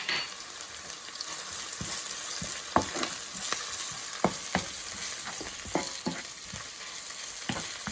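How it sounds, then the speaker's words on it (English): Ginger fries in hot oil in a pan, a steady soft sizzle punctuated by regular sharp scrapes and taps of the spoon as it is stirred, fairly quiet with no talking. "now you add the ginger, also for a few seconds."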